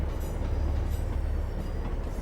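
A Class 156 diesel multiple unit in Train Simulator 2018 on the Great Western Main Line rumbles steadily, a loud, constant low engine and rail drone with faint high squeals above it.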